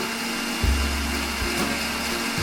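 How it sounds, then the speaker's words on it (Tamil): A mixer grinder blends lemon mint juice with water, its motor kicking in with a steady loud whir that holds evenly, alone without talk. "சேர்த்து அந்த ஜூஸை நல்லா 3 நிமிஷத்துக்கு அரைச்சிக்கலாம்."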